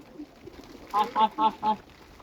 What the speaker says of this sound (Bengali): এই যে কবুতরগুলো দেখতেছেন আমার আলহামদুলিল্লাহ এগারো পিস কবুতর